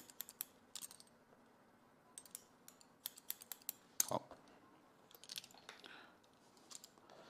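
Scissors trim hair during a short layered women's haircut, light crisp snips scattered in quick irregular bursts close by, fairly quiet against a soft room background.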